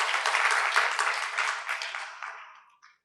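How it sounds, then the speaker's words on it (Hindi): Audience applause at a spiritual class gathering, a dense wash of clapping from many hands that holds steady and then fades out over a few seconds. "अच्छा अच्छा ताली बजाओ भाई, दीदी लेके ताली बजाओ"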